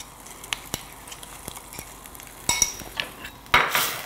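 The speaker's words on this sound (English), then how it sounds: "so you add your paste and you stir" A spoon scrapes and clinks against a pot while curry paste is stirred for a crayfish curry, giving sparse sharp metallic taps over a faint sizzle, with louder bursts of scraping and hiss near the end.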